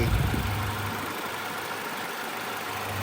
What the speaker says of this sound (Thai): เครื่องดังปกติเลยนะครับ